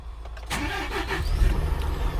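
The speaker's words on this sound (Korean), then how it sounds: "자 지금 차를 시동을 한번 켜봐 드릴게요" A used Hyundai All New Mighty 3.5-ton wide wing-body truck cranks briefly and its engine catches, settling into a low rumbling idle close by, with no voices.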